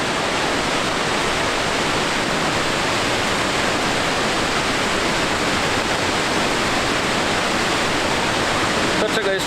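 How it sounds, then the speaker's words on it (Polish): Noccalula Falls in Alabama roars as a loud, steady wall of rushing water, unbroken and close throughout. "Dobra, idziemy do tego wodospadu."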